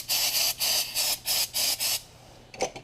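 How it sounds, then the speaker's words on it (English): Carburetor cleaner sprayed from an aerosol can onto a Holley carburetor during an accelerator pump replacement. Six short hissing bursts come in an even rhythm, close and moderately loud, followed by a faint clunk. "And spray a little carb clean on,"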